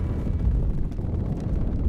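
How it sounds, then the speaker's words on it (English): Heavy artillery barrage opening a First World War battle before dawn, heard as a continuous dense low rumble of distant massed gunfire with no clear individual shots and no voices. "At 4:20 a.m., August 8th, the barrage signaled the beginning of the battle."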